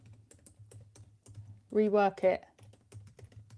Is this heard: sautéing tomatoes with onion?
no